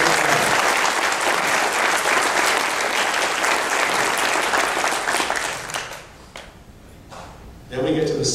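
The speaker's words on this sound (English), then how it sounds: "So can we please give them a round of applause?" Loud, sustained applause from an audience at a planning conference, a dense wash of many hands that fades out near the end before a brief sound returns.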